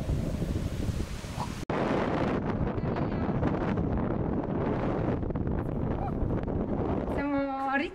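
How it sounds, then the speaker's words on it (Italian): Heavy wind buffeting the microphone outdoors in Spain, a dense low roar that cuts out briefly then returns steadily, with a short rising tonal sound near the end. "Da quando siamo tornati c'è il vento"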